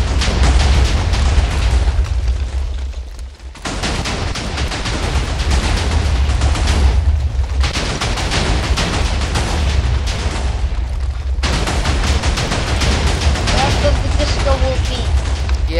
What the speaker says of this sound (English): it's just still exploding